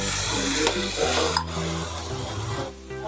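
Mango modak mixture is stirred in a pan, giving a continuous close scraping, rubbing sound with a faint sizzle, heard alone without talk.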